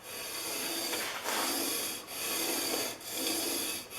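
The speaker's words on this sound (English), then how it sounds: "I've had both cutters locked down inside my sharpener" Two Stanley No. 48 plane cutters clamped together in a sharpener are rubbed back and forth on a stone in four long, even strokes, a close dry rasping with short pauses at each turn.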